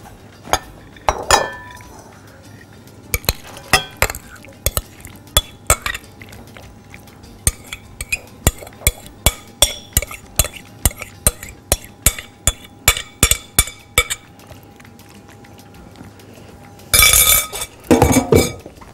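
Dishes and cutlery clink in a long series of sharp, separate ticks and knocks while smoked salmon and cucumber salad is moved onto a serving plate, with a louder clatter of china near the end.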